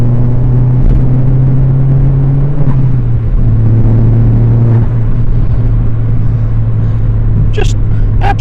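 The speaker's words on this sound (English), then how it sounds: "We're in 4th gear, floor it. Turbo cuts in, and we're away" A turbocharged MK4 Vauxhall Astra is floored in 4th gear, its engine drone holding loud and steady from inside the cabin with a slight pitch shift as the turbo comes in.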